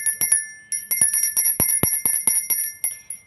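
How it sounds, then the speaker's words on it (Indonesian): A small ritual bell is rung in quick repeated strokes, a bright high tinkling ring with sustained overtones, about a dozen strikes in an uneven rhythm, close and clear with no talk. "Jadi Madam Suki akan membunyikan lonceng dulu ya"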